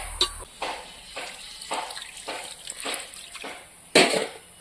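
Water is poured in short splashy bursts into a clay pot holding a whole hilsa fish for steaming, with several brief pours followed by one louder splash near the end.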